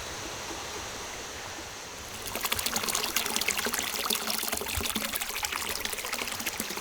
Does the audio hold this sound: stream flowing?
yes